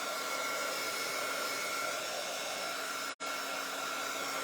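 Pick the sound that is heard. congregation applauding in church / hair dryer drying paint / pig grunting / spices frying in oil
hair dryer drying paint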